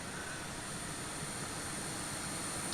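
Pratt & Whitney jet engines on a Philippine Airlines Airbus A321neo in a flight simulator game, a steady faint broadband roar with a thin high whine, continuous and unchanging.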